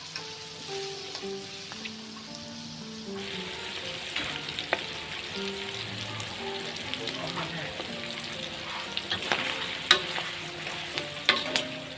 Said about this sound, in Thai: ผมเอา ไส้กับ อ่หนังหมูสองอย่างครับผม เอามาทอดกรอบนี่แหละครับ